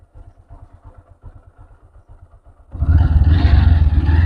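Tomtom rickshaw on a rough new road, its rear wheel spinning: a low rhythmic engine chug and clatter at first, then a sudden loud surge of revving and grinding that keeps going to the end.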